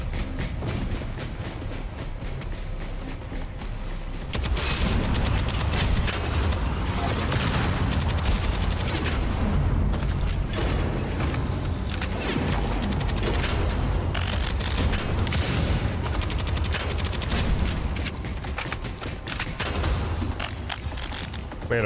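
Rapid LMG fire in Deadzone Rogue rattles on in long, dense bursts, loud and close, broken by brief pauses and mechanical clatter.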